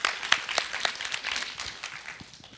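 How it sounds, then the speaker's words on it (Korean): A conference audience claps for a speaker at a startup ecosystem event, with brisk scattered applause that is strongest at first and then fades over a couple of seconds. "박수 부탁드립니다."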